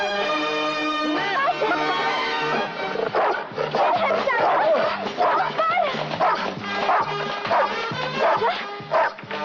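A dog named in a 1984 Bollywood film scene barks repeatedly in quick yapping bursts, loud and close, with a few whimpering yips and people talking in the scene.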